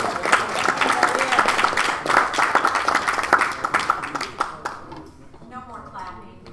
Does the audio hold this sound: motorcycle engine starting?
no